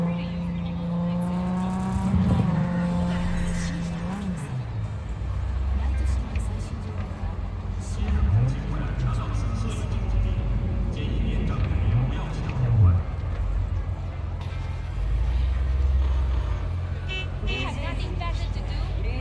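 Car engine droning steadily in Cyberpunk 2077 city traffic, with low rising and falling revs and passing vehicle noise, heard under a person talking throughout.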